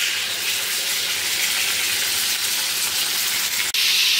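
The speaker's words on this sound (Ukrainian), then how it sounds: "А в нас тут смажиться." Food fries in a pan with a steady, loud sizzle that holds throughout, broken near the end by one sharp click or clatter.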